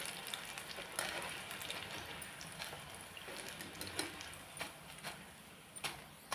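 Capsicum bhaji frying in hot oil, a quiet, steady sizzle scattered with small crackles and pops throughout.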